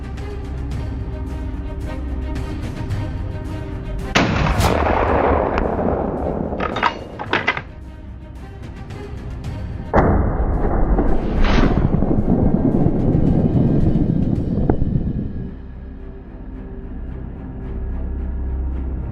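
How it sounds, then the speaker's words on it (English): Two loud, sharp blasts are fired during an outdoor wild boar hunt, several seconds apart. Each report is followed by heavy rumbling noise that slowly fades. "The first shot serves as a warning that they cannot freely destroy this land."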